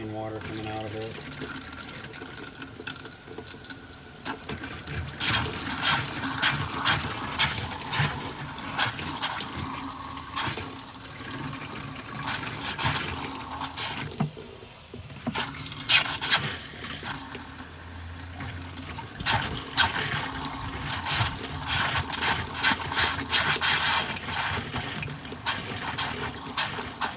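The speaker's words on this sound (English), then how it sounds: "Nice clean water coming out of it." Clean water runs from the tap of a camper during winterizing, a steady trickling flow with bursts of splashing that comes and goes over nearly half a minute.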